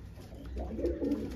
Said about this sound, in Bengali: খুবই ভালো স্ট্যান্ডের পায়রা, লাল জিরিয়া